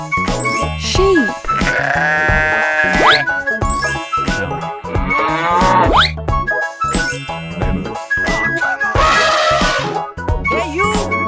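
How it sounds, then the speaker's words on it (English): Cartoon sheep bleating in several loud, close, wavering bleats separated by short pauses, mixed with playful jingles and dings from an animated children's animal show. "Sheep."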